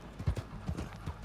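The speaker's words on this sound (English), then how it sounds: "You get on a damn mule and ride it around" A mule's hooves clip-clop steadily at a walking pace while it is ridden in Red Dead Redemption 2 Online. The evenly spaced, soft thuds are fairly quiet and carry no voice.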